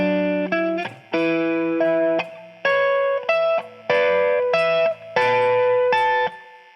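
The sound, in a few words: electric guitar lick played slowly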